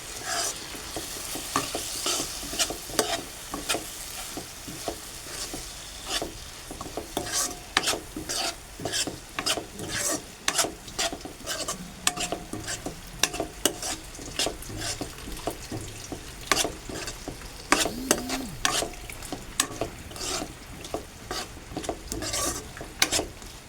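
Sprouted horse gram vegetable is stirred and sautéed in a pan for a long stretch. Rapid, repeated scraping strokes run over a constant sizzle, close and fairly loud, with no talking.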